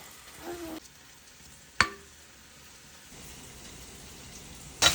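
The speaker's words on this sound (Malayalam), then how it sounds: "നമ്മുടെ സവോളയൊക്കെ ഏകദേശം വഴന്നു തുടങ്ങിയിട്ടുണ്ട്" Sliced onions softening in a pan for a pork curry produce a low, faint sizzle punctuated by a couple of sharp utensil clinks against the pan.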